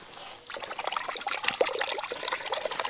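Water trickles and splashes steadily in a small outdoor stream, a close, bubbling patter that starts after a brief quieter moment and continues unbroken.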